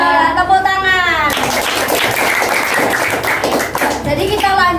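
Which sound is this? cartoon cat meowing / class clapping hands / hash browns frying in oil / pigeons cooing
class clapping hands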